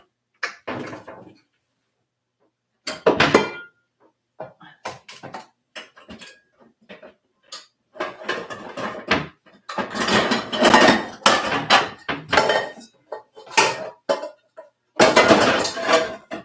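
Pots and pans clatter and clank in scattered bursts while a cook sorts through them to pick a pan for butter rice, with quiet pauses between the metallic knocks.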